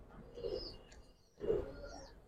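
Giribaz pigeons, a male bird among a pair of top-quality birds, give two soft low coos about a second apart, close by and fairly quiet, with no talking.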